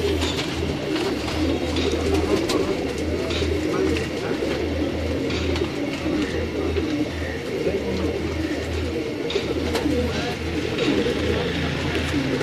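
Breeder pigeons kept by a Lahore fancier coo in low, repeated throaty phrases, several birds overlapping continuously, with faint chirps and background noise.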